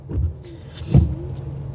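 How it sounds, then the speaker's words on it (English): A car windshield wiper sweeps across rainy glass inside the vehicle, giving two soft thumping strokes about three quarters of a second apart. The strokes sit over a low engine hum. "Sorry about the noise from the windshield wiper."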